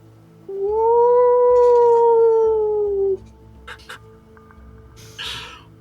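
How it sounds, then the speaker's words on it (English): Distant wolves howl on a calm dark night, one long rising and falling tone lasting a few seconds, then brief fainter calls and a faint screech trailing behind. "you hear a black cat in the distance and some wolves"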